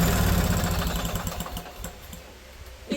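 An old engine on an abandoned junkyard machine, burning heavy oil out the exhaust and low on gas, runs close and loud with a rough, uneven chugging idle that fades somewhat before a final sputter.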